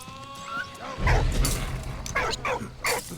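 A dog barks and yips in the World War I video game Valiant Hearts: The Great War, a few short close calls over low game ambience, with a player's voice faintly in the background.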